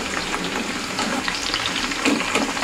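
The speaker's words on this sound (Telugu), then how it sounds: "సో వీటన్నిటిని మనము డీప్ ఫ్రై చేసుకోవాలి." Drumstick pieces deep frying in hot oil for a pickle, a steady dense sizzle and crackle with occasional scraping from stirring, close and continuous, no talking.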